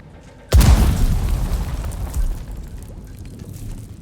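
A single loud landmine explosion goes off in the video game Dune, a sudden deep boom followed by a long rumbling decay that fades over several seconds.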